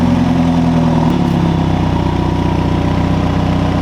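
Four-cylinder engine of a BMW 430i G22 running steadily nearby, a continuous low idling hum with a slight rev change just past the first second.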